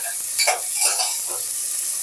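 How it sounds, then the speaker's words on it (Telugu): Whole spices frying in a pan for ghee rice, with onions to follow, make a soft close sizzle broken by a few quick stirring scrapes. "ఈ స్పైసెస్ ఫ్రై అయ్యాక ఆనియన్స్ ఇవన్నీ వేసుకుందాం."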